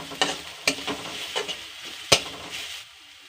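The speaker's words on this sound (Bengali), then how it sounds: "এবার পেঁয়াজটা হালকা ফ্রাই করে নেব। এরপর রসুন পেস্ট দেব, রসুনটাও ফ্রাই করে নেব।" Sliced onion and garlic paste frying in a pan while being stirred for pea-stuffed paratha filling, a soft steady sizzle broken by several sharp clinks of a spoon against the pan, close and alone, fading out near the end.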